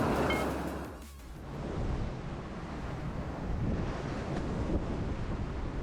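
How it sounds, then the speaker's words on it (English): Strong offshore wind buffets a sailboat at sea in rising weather, a loud continuous roar of gusts and microphone wind noise over rushing waves, with no voices. "Yeah, the wind picked up."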